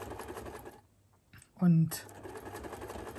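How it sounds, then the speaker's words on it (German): A domestic sewing machine stitching old photos into a paper junk journal gives one short, loud whirring burst of stitching between stretches of speech. "da gehe ich jetzt mit euch an die Nähmaschine"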